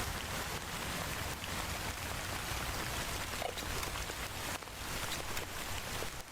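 Steady rain in a video game patters as a dense, even hiss throughout, moderately quiet with no talking.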